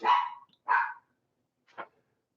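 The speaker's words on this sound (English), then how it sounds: "Oh, my dog's barking." A pet dog barks indoors, two loud close barks in quick succession followed by a shorter, fainter third, with silence between them.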